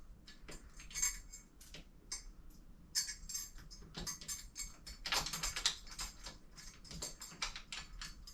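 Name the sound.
screwing in a washer while assembling a futon frame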